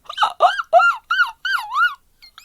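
A voice imitates a squeaky mattress with six rhythmic, whiny squeaks in a steady bouncing pattern, then a faint trailing bit after a short pause.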